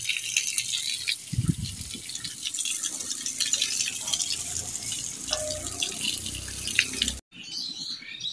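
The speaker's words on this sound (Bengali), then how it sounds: "বেলটা ঠান্ডা হয়ে আছে, বেশ ধুয়ে নাও, ভালো করে ধুয়ে নাও।" Running tap water pours steadily over a chilled wood apple being washed by hand, with a brief splash and small drips, then a sudden cut near the end.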